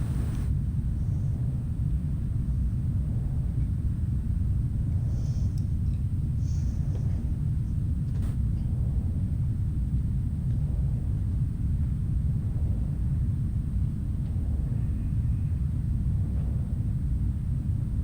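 Steady low storm rumble in the video game No Man's Sky, a continuous deep roar that stays even throughout with faint soft thuds and no speech.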